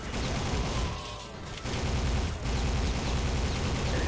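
Sustained gunfire aimed at turrets in the first-person shooter Soldier of Fortune, dense rapid shots rattling nearly nonstop with a couple of short lulls, loud and near.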